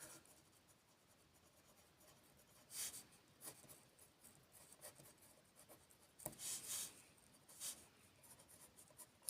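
Marker or chalk writing on a board during a ninth-grade math lesson on common factors, heard as faint, intermittent rubbing strokes with a few louder scratchy bursts and no talk.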